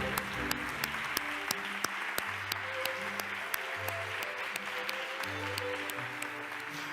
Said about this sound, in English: applause for the winners in the category research